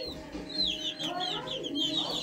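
Chickens on a farm clucking close by, a quick run of squawky calls and chatter over a faint low background.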